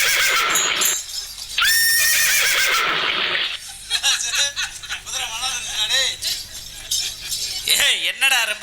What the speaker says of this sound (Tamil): என்னடா குதிரை கணக்குது?